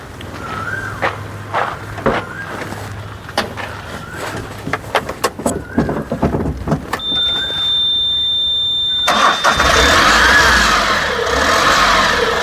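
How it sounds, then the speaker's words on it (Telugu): A 2022 Ashok Leyland Dost LS light truck engine is cranked and started, with clicks and clunks before it, then a steady close idle after the catch, alone with no talk. "ఇంజన్ కూడా చూడండి, ఎక్సలెంట్గా ఉంది ఇంజన్. స్టార్ట్ చేసి చూపిస్తాను మీకు."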